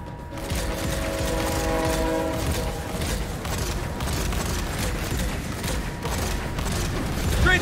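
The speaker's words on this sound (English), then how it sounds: "Train's coming!" A train approaches during a Gears 5 campaign battle, a loud, steady rumble with a horn-like tone early on and heavy mechanical clatter that builds toward the end, with game effects mixed in.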